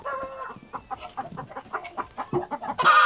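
Chickens cluck in a series of short, close calls from a coop on a farm, with a brief louder squawk at the end and faint farmyard background.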